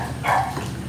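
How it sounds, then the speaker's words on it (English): A dog barking indoors during a meal at home, one short, fairly loud bark or yip close by, with no talking. "My dog is gonna start tripping."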